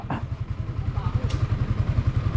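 A Yamaha Sniper 155 motorcycle engine sputtering at low revs with an uneven, rapid chugging pulse, loud and close, while people talk nearby.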